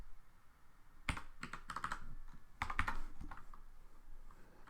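Someone types a password on a computer keyboard at a desk, a short burst of close, crisp key clicks in uneven clusters, fairly quiet, with no speech over it.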